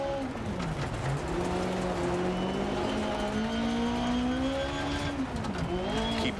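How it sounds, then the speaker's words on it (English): A Ford Escort rally car in Dirt Rally 2.0 hums with a steady engine drone that climbs gradually in pitch, driving at night, with no talk over it. "I like the sound of the car. The car sounds awesome."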